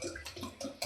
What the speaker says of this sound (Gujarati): મે અત્યારે પાણી જગ ભરાય છે